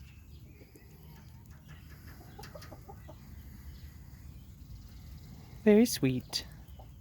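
Soft low clucks from a mother hen with her newly hatched chicks run under quiet background noise, then louder calls near the end overlap with someone talking.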